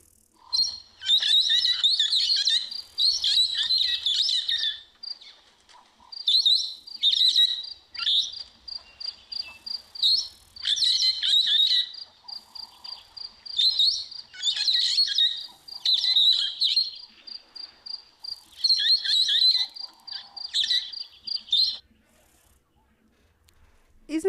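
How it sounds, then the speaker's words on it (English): Brown-headed parrots give their natural call, bursts of bright, high chirps and tweets that repeat in rapid clusters with short gaps, fairly close and clear over a quiet background. "what do the brown-headed parrots sound like naturally when they are not actually imitating something or someone?"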